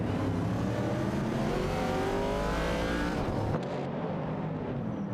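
Mercury Cougar and Dodge Challenger race cars in a video game roar at close range with steady high revs, engine tone shifting as they battle, no voices.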